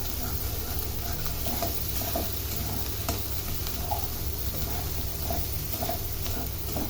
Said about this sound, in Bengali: মশলাটা আগে আমি কষিয়ে নিচ্ছি